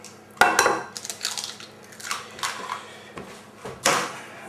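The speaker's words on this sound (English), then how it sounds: "we want these eggs lightly beaten" Two eggs are lightly beaten in a bowl for an Irish barmbrack tea cake, giving a short run of irregular clinks and taps of utensil on dish, close and fairly soft.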